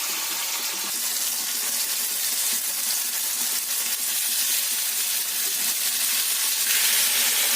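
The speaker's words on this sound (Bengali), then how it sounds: "ভালো করে একটু নাড়াচাড়া দিয়ে নিচ্ছি।" Pasta frying in a pan gives off a steady hissing sizzle, with faint scraping as it is stirred. The sound is continuous, close and even throughout, with a watery rushing quality and no speech.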